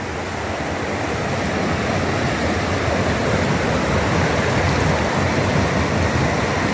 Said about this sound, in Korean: 물소리도 웅장합니다.